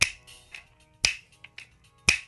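Three loud, crisp finger snaps from the isolated multitrack stem of Michael Jackson's "Rock With You", spaced about a second apart, each with a short reverberant tail and faint softer echoes between.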